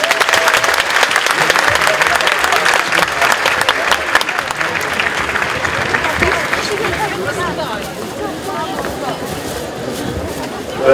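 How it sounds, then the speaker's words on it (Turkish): An audience at a book fair talk sends off a professor with enthusiastic applause, loud sustained clapping mixed with crowd chatter that thins toward the end. "coşkulu alkışlarla uğurluyoruz efendim"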